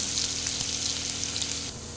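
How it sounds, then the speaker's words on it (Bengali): Onions fry in a pan with a soft, even sizzle, a faint hissing crackle that holds steady and eases slightly at the end. "পেঁয়াজ তুলে দিয়েছি, পেঁয়াজ ভাজা হচ্ছে।"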